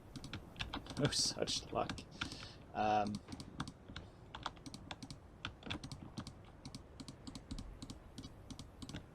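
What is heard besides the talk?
typing on a computer keyboard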